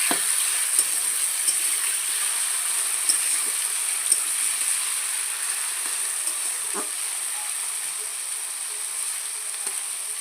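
Thinly cut carrots and potato frying in oil, a steady high-pitched sizzle with faint scattered crackles, close and moderately quiet, with no talking.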